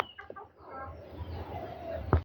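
Chickens and a rooster at a rural home, soft clucking calls close by with a brief louder squawk near the end, over quiet outdoor background.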